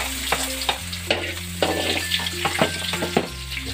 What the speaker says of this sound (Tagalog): Pwede na natin ilagay ang sibuyas.